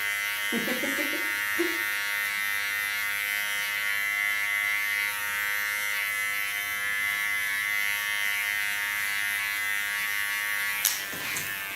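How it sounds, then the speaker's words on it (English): A small Keone electric clipper fitted with a ceramic blade buzzes steadily and close up throughout a disconnected asymmetric haircut, with a few brief clicks and handling noises along the way. "Going over to my small keone clipper."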